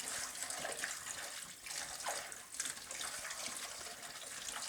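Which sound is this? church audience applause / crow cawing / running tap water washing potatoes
running tap water washing potatoes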